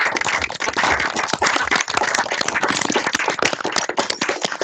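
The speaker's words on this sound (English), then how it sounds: "let's again unmute the microphones and let's reward this team with a round of applause" An online audience applauding a presenting team at a university aerospace vehicle design capstone final presentation: dense, continuous clapping from many people over unmuted microphones, loud, close and slightly harsh, with no speech on top.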